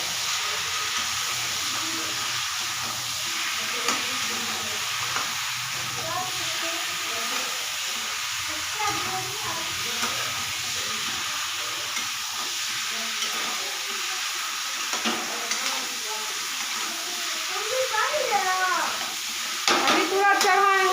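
Powdered spices fry and sizzle in a pan on an Indian home kitchen stove while being stirred, a steady close hiss with scraping stir strokes, under faint talk near the end.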